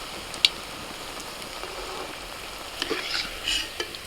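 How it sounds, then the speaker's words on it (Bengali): Pitha batter for jilipi pithe sizzling slowly in medium-hot oil, a steady soft frying hiss with a few crackling pops rising toward the end, no voices. "তেলটা মাঝারি গরম হলে ছাড়তে হবে, আস্তে আস্তে জাল দিয়ে ভাজতে হবে"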